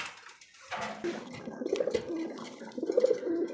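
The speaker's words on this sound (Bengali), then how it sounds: "সবজি রেসার আর অনেক বড় বিগ সাইজের কবুতর" Large pigeons of a big-sized racer breed cooing in short, low throaty bursts at close range, repeating irregularly over several seconds with no talk.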